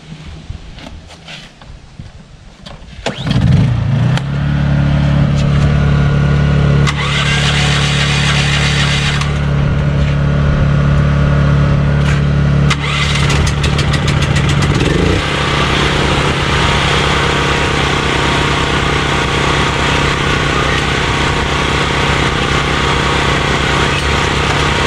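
Portable gasoline generators are pulled to life, a few sputtering start attempts giving way to a loud, steady engine drone that runs on continuously close by, with a second unit joining part way through.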